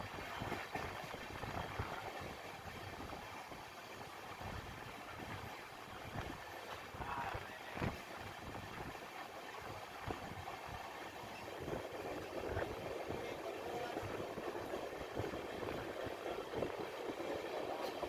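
Jeur to Solapur intercity train running fast on Central Railway past small stations, a steady loud rumble of wheels and rattling carriage noise throughout, growing slightly denser toward the end, with a faint voice at times.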